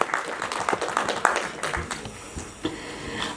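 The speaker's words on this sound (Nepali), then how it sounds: "एकचोटि जोरदार ताली सम्मान स्वरूप यो जोडीका लागि।" An audience applauds a couple in short bursts of clapping, moderately loud and somewhat thin, with no voices over it.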